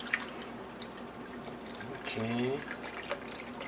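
Broth trickles and splashes as it is poured into a pot for a vegan lentil stew, a faint liquid pour with drips, while a person speaks briefly.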